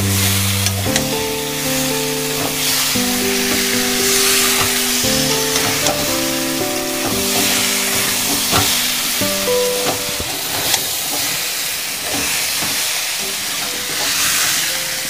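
Fried prawns and jackfruit sizzle in a pan, a continuous loud frying hiss with crackles, under steady background music with shifting tones, no talk.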